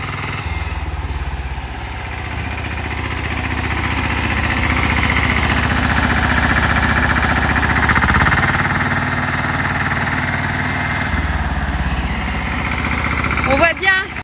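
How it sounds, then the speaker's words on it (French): A 1972 tractor engine chugs steadily in a vineyard with a rough, clattering rumble, loud and close, running continuously before a sharp rattle near the end. "Il fait beaucoup de bruit, ce tracteur."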